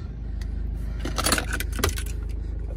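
Keys for a 2014 BMW 3 Series 320d M Sport jangle close by in several quick metallic shakes and clinks, with a low steady hum underneath.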